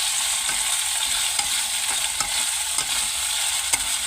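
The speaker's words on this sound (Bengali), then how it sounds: "আমি দিয়ে দিয়েছি সেই মাংসটা এই পেঁয়াজটার সাথে ভালো করে নাড়িয়ে নেব" Chicken and onions are stirred in a hot pan for a thin vegetable chicken curry. A loud, constant sizzle carries repeated scraping strokes of a spoon against the pan, with no voices.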